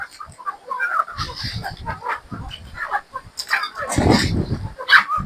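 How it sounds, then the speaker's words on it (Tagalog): Trained fighting chickens cluck and squawk in a busy cluster, with scattered calls rising over a restless flock and some talking mixed in. "Mga turuan itong mga manok na to eh."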